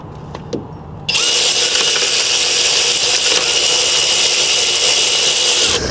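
A power socket tool spins to loosen a fitting on a Nissan 720 pickup, starting after a couple of faint knocks with a loud, sustained high-pitched whirring that runs steadily to the end, close by.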